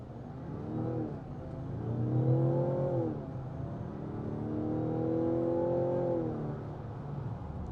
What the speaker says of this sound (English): So the gas engine just kicked in.